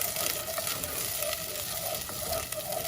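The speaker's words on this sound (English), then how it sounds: "We're going to go ahead and put tomato sauce" Tomato sauce poured into a sizzling pot while making Nigerian beans porridge, giving a dense, continuous close-up frying hiss with small crackles and no talking.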